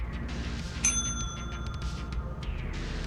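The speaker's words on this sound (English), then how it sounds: "Once you're ready to sell, ring the bell on the right side of the counter." A counter bell rings once with a bright metallic ding and a short ringing decay, struck to sell goods in the video game Lethal Company, over steady background ambience.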